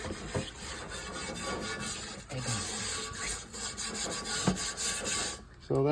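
Someone scrubs a cast iron pan in irregular rasping strokes with brief pauses, fairly close and moderately loud, with clatter near the end.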